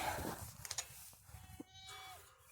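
A Kiko goat bleats at a feeder, a few short wavering cries at close range, with bumps and rustling around the feeder between calls.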